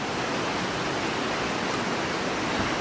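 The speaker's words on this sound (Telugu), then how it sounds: "అదే శివుడి పై నుంచి అలా వాటర్ కిందకి వస్తా." Water at Puthikunta waterfalls spills down over a Shiva linga, a loud, close, unbroken hiss of falling water throughout.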